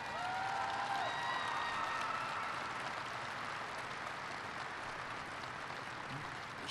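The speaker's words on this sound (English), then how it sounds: "That's worth applauding." Steady, dense applause from an audience fills the space evenly throughout, a sustained wash of clapping at moderate volume with faint tonal whistles early on.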